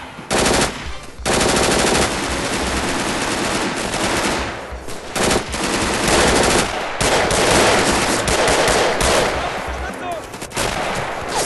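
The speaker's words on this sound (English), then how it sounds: "Again with a rusty sniper rifle" A rusty sniper rifle is fired in a video game. Loud shots and gunfire-like bursts fill the clip almost continuously, with short breaks between them.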